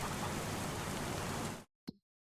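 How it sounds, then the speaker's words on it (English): Steady, dense rain falls in Farming Simulator 25 as a loud broadband hiss, then cuts off abruptly, followed by a brief soft thump and silence. "it's possible that the rain is going to end soon"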